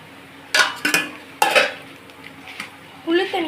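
Anchovy pieces being mixed by hand with tamarind water and spice powder in a metal bowl give a few sharp clinks and wet stirring scrapes in irregular bursts, close up, with a brief voice near the end.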